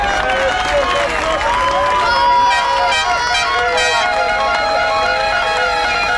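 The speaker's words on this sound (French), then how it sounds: "tous les officiels méritent un tonnerre d'applaudissements de votre part" Crowd applause and cheering for the officials at a French UFOLEP motocross event, sustained clapping across the whole stretch, with tonal music or whistles over it and a voice talking.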